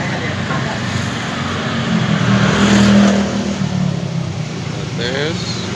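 Suzuki Satria FU motorcycle engine idling close by during a cam chain tensioner check, a steady mechanical hum that swells briefly mid-clip before settling, with a faint voice underneath.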